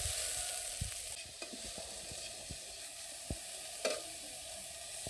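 Onions fry in a pan for a hariali green chicken curry as chopped coriander goes in: a steady close sizzle with scattered sharp clicks of stirring and one louder scrape, no voices.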